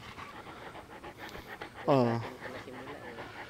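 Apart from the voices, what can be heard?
dog panting, Caucasian Ovcharka or Alabai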